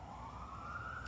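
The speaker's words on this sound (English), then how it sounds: "And then we got the siren, the normal Jamestown background noise" An emergency vehicle siren wails through the streets of Jamestown, a steady tone gliding slowly upward, heard at moderate distance over low town rumble.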